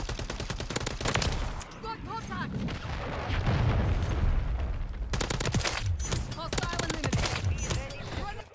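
Rapid automatic gunfire and bursts in Call of Duty: Modern Warfare III, likely from a Holger 556 rifle, loud and dense with a brief lull near the middle, mixed with busy game noise and occasional voice.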